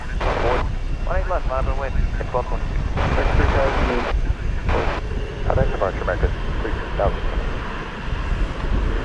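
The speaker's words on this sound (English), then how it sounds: "We have an aircraft coming in. It is going to be Frontier Flight 3832 from Phoenix, Arizona, an Airbus A320." A Frontier Airlines Airbus A320 arriving at DFW Airport makes a broad, steady roar with wind buffeting, while someone talks over it for most of the stretch.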